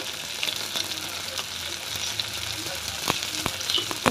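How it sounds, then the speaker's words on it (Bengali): Spices with salt and turmeric frying in oil for koi fish, a continuous close sizzle with occasional sharp spatters and light stirring scrapes throughout. "সব কটা উপকরণ আমি এখন ভালো করে কষিয়ে নেব তেলের সঙ্গে"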